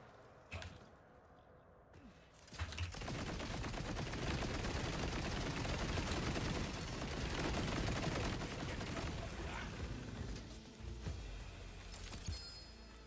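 Spread launcher fire in a video game roars as a sustained, dense wall of rapid shots and impacts lasting around ten seconds before tapering off.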